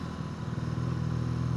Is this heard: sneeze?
no